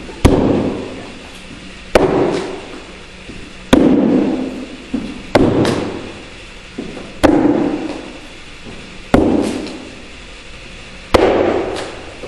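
Seven throwing knives strike a shield at regular intervals of about two seconds, each a loud, sharp thunk close by that fades quickly, with quiet gaps between impacts.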